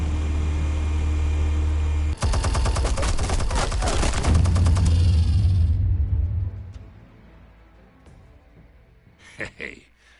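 Minigun fire in the Batman Telltale Series video game, a fast rattling stream of shots for a few seconds over a low hum, then fading into quieter game sounds while people talk.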